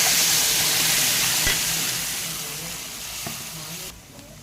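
Cumin seeds and a ground paste sizzle and fry in hot oil for a fish curry, a steady close hiss and crackle with a few soft stirring knocks, fading quieter toward the end.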